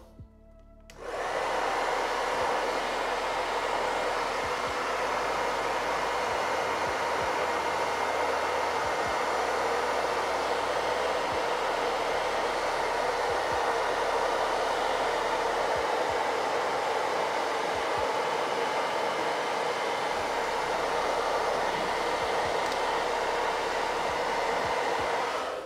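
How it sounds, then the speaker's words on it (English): A hair dryer blows steadily on green paint on a Warhammer 40k miniature, a loud continuous whooshing roar that starts abruptly and holds steady for about twenty-five seconds without talk. "I'm actually going to just blow dry it for a second."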